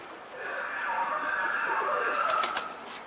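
A pigeon coos in soft, low, drawn-out calls outdoors, with people talking over it the whole time.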